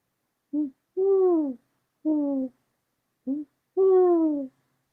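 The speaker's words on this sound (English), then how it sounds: "the dreary hooting of the screech owl" A screech owl hoots five times at night in a rural hollow. The clear, close calls come alone in short and longer bursts separated by silence.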